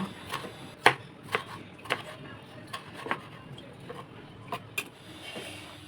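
Knife chopping tomato and onion on a board in a home kitchen, a series of irregular crisp taps spaced through the clip, close and fairly quiet, with no talking.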